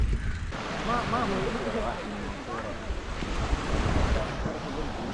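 Sea waves washing against the shore beside the waterfront in Melaka, a steady rushing wash with wind noise on the microphone and someone talking over it.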